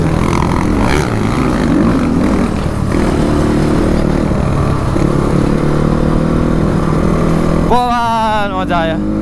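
A motorcycle ridden off-road, its engine droning loud and steady close by for most of the stretch, with a rising whining rev near the end and wind rumble throughout.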